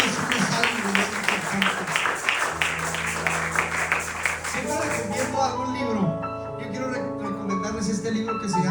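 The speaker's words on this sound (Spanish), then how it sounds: "Denle un aplauso grande y fuerte al Señor Jesús" Easter Sunday church congregation applauding with broadband clapping, joined midway by sustained organ or keyboard chords and music.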